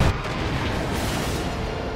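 A ship explodes in an animated film, a loud sustained roar of blast and rumbling debris filling the whole clip with no pause.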